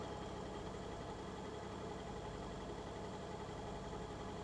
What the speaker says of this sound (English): That's got a very unique engine noise, isn't it?